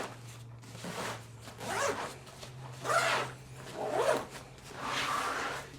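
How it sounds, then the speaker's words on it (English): A ProCase travel case is zipped up in several drawn-out, rasping pulls close by, while a dog whimpers faintly in the background. "So then, if I zip this up,"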